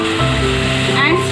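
Onion paste hits a hot pan for restaurant-style paneer matar masala with butter, setting off a loud, close, continuous sizzle and hiss that lasts the whole moment, with faint tonal sounds mixed in.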